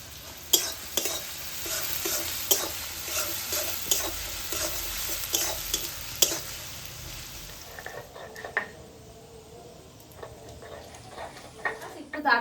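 Chopped onions fry in a pan for an egg korma, giving a soft continuous sizzle with frequent stirring scrapes and taps, fairly quiet and close, with a voice speaking at times.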